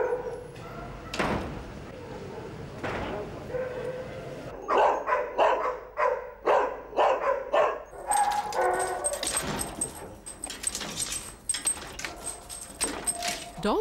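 Dogs at Battersea Dogs Home in London bark in loud, close bursts, a few isolated yelps at first and then a rapid run of overlapping barks, with metallic jangles and a door slam mixed in.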